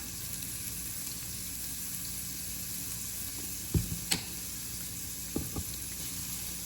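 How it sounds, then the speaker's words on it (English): Onions and garlic sauté in a pan with a faint, steady sizzle, broken by a few quiet utensil knocks and stirring sounds, with no talking. "You're going to want to saute your onions and garlic for about 2 minutes until soft"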